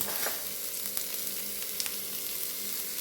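Onions, garlic and green chillies sauté in a pan for a Kerala-style kovakka fry, giving a steady close hiss of sizzling oil with occasional soft stirring clicks and no voices.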